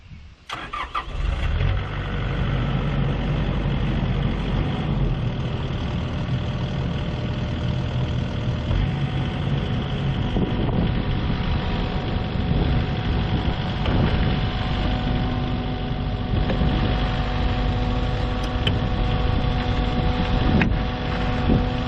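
A heavy machine's diesel engine roars loud and close at about a third throttle, the boom raised with no load, holding a steady deep drone with slight surges for over twenty seconds, alone without voices.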